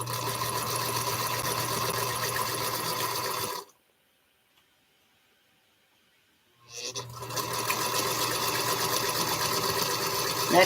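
A sewing machine runs fast and loud while piecing a pinwheel quilt block, pauses for about three seconds of near silence, then starts up again and keeps stitching steadily.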